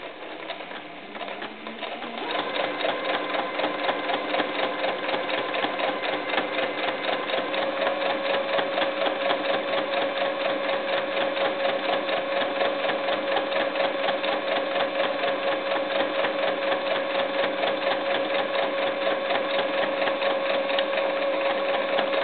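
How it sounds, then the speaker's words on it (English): A sewing machine stitches steadily along a seam of a small ruffled doll skirt, a continuous close whirring hum with a fine rapid needle rhythm that starts after a brief pause and runs unbroken to the end. "I'm going to sew right on that seam"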